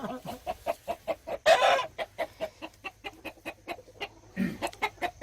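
A rooster clucks steadily in a rapid, regular rhythm close by, with one louder squawk partway through.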